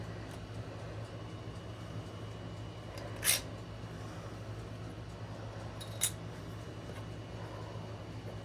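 Scissors trim puffy polymer clay, two quiet, brief crisp snips a few seconds apart over a steady low room hum.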